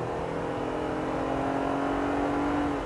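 A Jeep Gladiator's engine revs hard in second gear while towing a heavy load, a steady loud drone climbing high through the entire stretch with a constant whirring tone.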